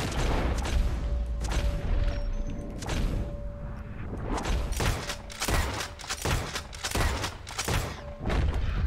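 Gunfire in a video game shootout: a dense, loud fusillade of overlapping shots and booming bursts runs throughout, with sharp reports clustering into rapid volleys toward the end.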